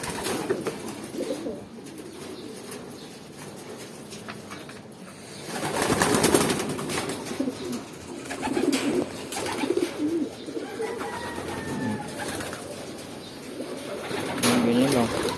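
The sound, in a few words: pigeons cooing while being fed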